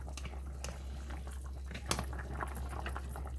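A pot of black-eyed peas with pork shank bubbles steadily on the stove, soft irregular pops and gurgles over a low constant hum, close and fairly quiet.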